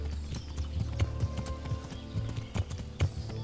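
Horse hooves clip-clop in a steady, fairly close rhythm of repeated thumps while riding in the medieval game Kingdom Come: Deliverance, with faint ambient tones beneath and no talking.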